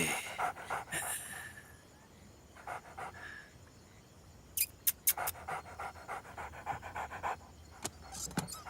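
A dog pants steadily and close by while being fed, the rapid breathing running throughout with a few sharp clicks and taps mixed in.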